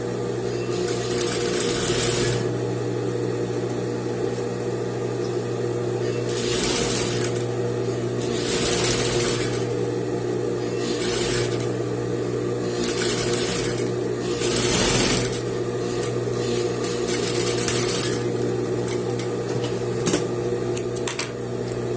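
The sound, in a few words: sewing machine stitching dress fabric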